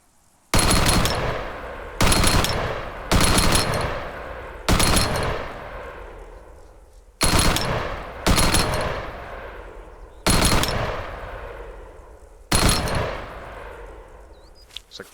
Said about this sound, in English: First up, we've got the M249.